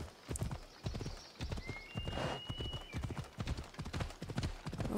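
Horse ridden at a brisk pace in the video game Assassin's Creed Odyssey, hooves clip-clopping in a steady rhythmic gait close up, with a brief whinny-like tone in the middle and no clear talk.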